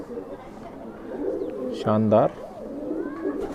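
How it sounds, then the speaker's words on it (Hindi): A Madrasi Nafta Mudula pigeon gives one short, clear coo close by, heard beneath someone talking over a murmur of background noise. "तो भाई ये नफ्ता कबूतर है मूदुला।"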